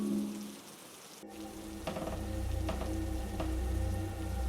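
Pouring rain hisses steadily at night, with a dense wash of drops and occasional sharper taps, moderately loud throughout with no voices.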